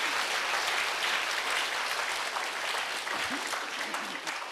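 A church congregation claps at a Sunday worship service, a loud continuous wash of many hands that fades slightly toward the end.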